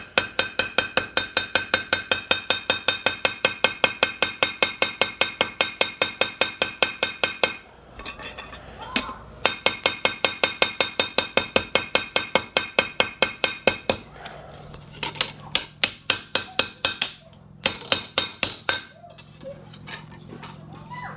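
Rapid, steady metallic tapping of a small hammer on a copper bracelet, in long runs broken by brief pauses, bright and close.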